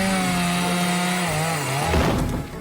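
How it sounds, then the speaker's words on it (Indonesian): A chainsaw in a SpongeBob cartoon cuts through a door as Squidward breaks in, buzzing loud and close with a sagging engine pitch, then a rough burst of tearing wood near the end. "Squidward malah menjebol pintu masuk menggunakan"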